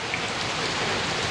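Heavy rain pours onto a roof and pool area, a dense, continuous hiss of water that stays loud and even without pause.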